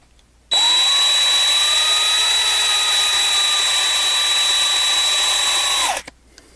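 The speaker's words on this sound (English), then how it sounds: "I am widening the hole a little bit with my 3/16 inch bit." A power drill with a 3/16 inch bit widens a hole in a die-cast 1/64 scale NASCAR model car. The motor spins up and holds a loud, steady whine for about five seconds, then winds down, with no talking.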